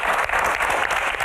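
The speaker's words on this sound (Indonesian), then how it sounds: "Tepuk tangan untuk Q&A malam ini." Studio audience applause at the close of a televised Q&A panel show, a short, dense burst of clapping from a crowd with no voices over it.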